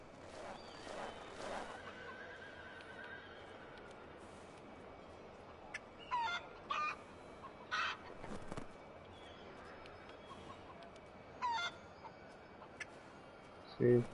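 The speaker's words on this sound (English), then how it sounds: "Chickens." Chickens cluck faintly in Assassin's Creed 3 beneath a soft outdoor ambience, with several short bursts of clucks and other brief calls scattered across the stretch.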